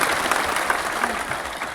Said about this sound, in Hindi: बहुत जोरदार तरीके से आप सभी लोग इनका स्वागत करें तालियों के गीत के साथ